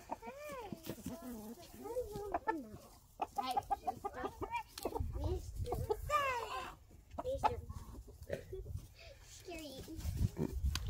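Hens clucking in a coop alongside young chicks, their calls mixed with a rooster-like crow, close by and intermittent, under frequent talk from a child and an adult.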